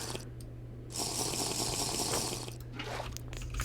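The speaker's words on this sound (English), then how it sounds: "Fill up our flask and head out." Water runs steadily as a flask is filled in the TerraFirmaCraft video game, a soft continuous splashing stream that starts partway in and fades near the end, over a faint steady hum.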